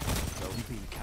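Gunfire in Destiny 2, a short dense burst of rapid shots that blur together, loud and close for about a second, mixed with a voice.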